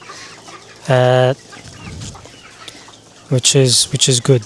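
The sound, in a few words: native chickens clucking at feeding time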